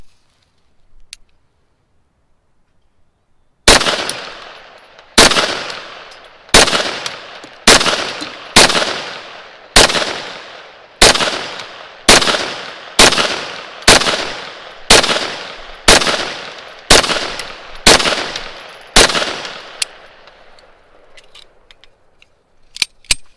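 Rock Island Armory XT 22 Magnum rifle firing CCI Maxi Mag rounds outdoors: about fourteen sharp, loud reports in a steady, evenly spaced string, each with a short ringing decay, then quiet.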